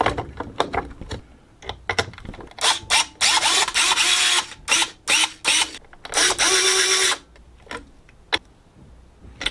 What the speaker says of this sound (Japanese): 手回しができる電動ドライバー